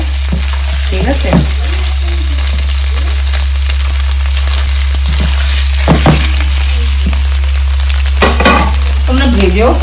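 Boiled potatoes are stirred in a sizzling pan for sabudana khichdi, a steady loud fry with intermittent scraping strokes of the spoon over a constant low hum.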